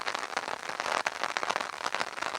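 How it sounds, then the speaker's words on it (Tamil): Steady rain falls during a Tamil Nadu afternoon weather spell, a dense, even hiss of drops spattering on surfaces nearby, continuous and fairly loud with no voices. "மழை பெய்து கொண்டிருக்கிறது."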